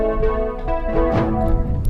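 Music beat with processed vocal chops played through a synth preset called Blue; a short, warm, layered chordal texture with soft high accents, sustained and fairly loud, with no talking.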